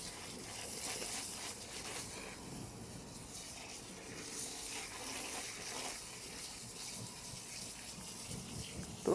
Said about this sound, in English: Throw lots of water on there.